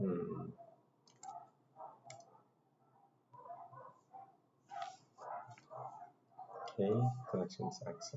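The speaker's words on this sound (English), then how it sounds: "sorry about the barking if you hear barking" A dog barks and whimpers faintly in short, scattered bursts somewhere in a room, mixed under a person talking and occasional clicks.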